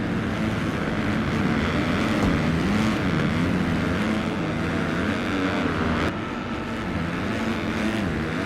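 A Yamaha motocross bike in an MX2 race in Latvia holds its engine wide open in fifth gear, a loud steady high-revving drone with slight rises and falls in pitch, running continuously without speech.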